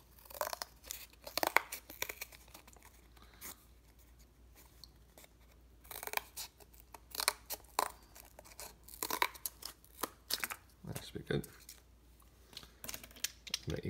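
Scissors snip and tear through cardboard trimmed from a rubber band printmaking block, giving sparse, irregular close-up crunches and rustles with quiet gaps between cuts.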